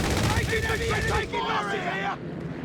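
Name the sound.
artillery fire in video game Company of Heroes 3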